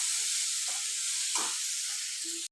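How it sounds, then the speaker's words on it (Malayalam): Crushed ginger and garlic sizzle in hot oil, a bright, even hiss held at a steady level for about two seconds with a couple of soft stirring sounds, then a sudden stop. "ഇഞ്ചിയും വെളുത്തുള്ളിയും ചതച്ചത് 1 ടേബിൾ സ്പൂൺ ഇട്ട് കൊടുക്കുക. പച്ചമണം മാറുന്നത് വരെ മൂപ്പിക്കുക."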